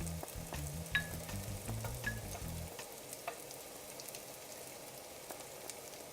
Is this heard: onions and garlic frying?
yes